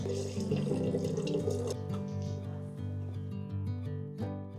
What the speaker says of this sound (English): let's fill up the water bottles.